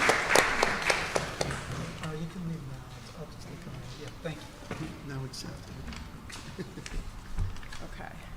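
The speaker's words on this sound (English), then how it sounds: "Just give her a round of applause." An audience at a school board of education meeting claps, loudest at first and then thinning into scattered, fading applause, with voices murmuring underneath.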